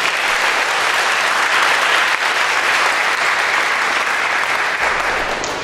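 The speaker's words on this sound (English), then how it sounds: "Let's give them both a round of applause" An audience at a school Honors Day ceremony breaks into a steady, dense round of applause that fills the hall evenly for several seconds and tapers slightly at the end.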